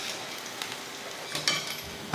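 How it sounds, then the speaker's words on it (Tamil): Small pieces of soft pakoda batter fry in hot oil, giving a steady close crackling sizzle with a few sharper pops, and no voices. "எண்ணெய் நல்லா காஞ்சிருச்சு. இப்போ எடுத்து இந்த மாதிரி அப்படியே சின்னதாக உதிரியாக போடணும்."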